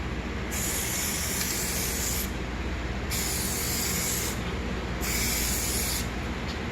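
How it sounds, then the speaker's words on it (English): A continuous hiss of spray coating onto a headlight sounds up close, broken by a few brief pauses between passes, steady and fairly loud throughout. "You scuff it, you tape it, and you spray it."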